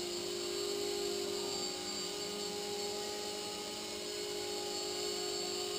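An Airship 6045 RC blimp's small electric motors run steadily, a close, loud, high whirring drone that holds throughout with no voices.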